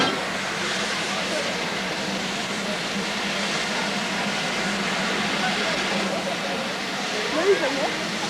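Steady, dense rushing roar of a steam locomotive, continuous and fairly loud throughout, with a faint brief higher tone near the end.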